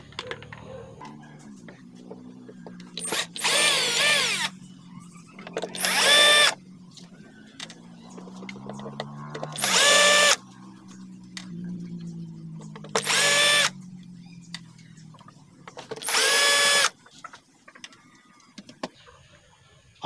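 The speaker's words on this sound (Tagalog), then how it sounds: "Tanggalin natin yung mga screw." A power drill unscrews screws from a Bluetooth speaker in five short, loud bursts of whirring, each a second or so long, with quiet handling clicks between them.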